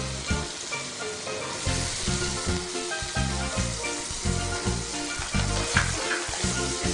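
One medium onion frying in a pan for Wai Wai noodles, a continuous crackling sizzle broken by repeated knocks and stirring scrapes at an uneven rhythm, close by and with no talking.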